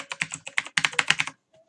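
Rapid keystrokes on a computer keyboard, roughly a dozen crisp clicks in an uneven burst, close and clear, then a brief pause with a faint tone at the end.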